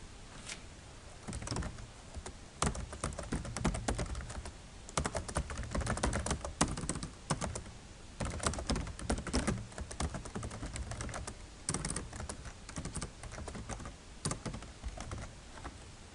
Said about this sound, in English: you gotta type it again